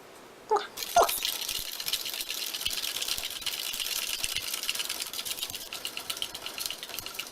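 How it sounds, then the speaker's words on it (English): Popin Cookin candy powder from the orange pouch being mixed with a scoop of water in a small container, a steady close scratchy, gritty stirring that runs continuously after a couple of brief knocks at the start. "You mix until you don't hear that little scrapey granule sound"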